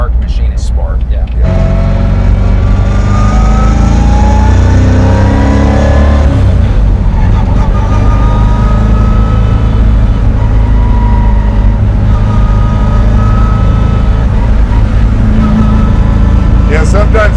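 A 1,400 hp twin-turbo custom Pontiac Firebird cruising down the road, its engine a loud, constant low drone with small shifts in pitch from throttle changes, heard from inside the car.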